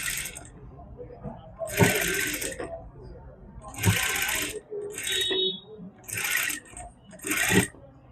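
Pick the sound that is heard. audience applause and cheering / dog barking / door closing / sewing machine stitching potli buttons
sewing machine stitching potli buttons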